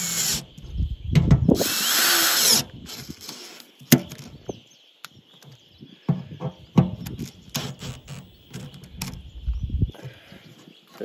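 A power drill driving screws in an off-grid maple syrup sugarbush setup, loud close whirring bursts with pauses between runs and some clattering handling noise.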